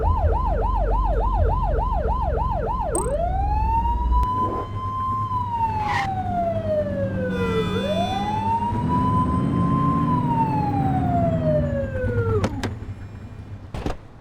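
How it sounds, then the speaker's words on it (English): A police siren in a video game wails loudly, first in a fast yelp, then in long rising and falling sweeps, with a low engine rumble underneath throughout. "Turn that siren off."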